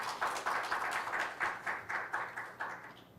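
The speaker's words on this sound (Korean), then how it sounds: "참석자들의 박수 소리가 크지 못한 점 죄송하고요" A small seminar audience claps sparsely and faintly, in an even rhythm of separate hand claps with no other sound standing out.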